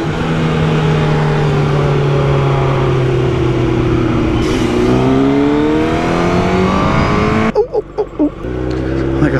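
Motorcycle engine revving hard inside a tunnel, a loud sustained roar with pitch sweeping up and down and echoing, cutting off abruptly near the end into a few short bursts.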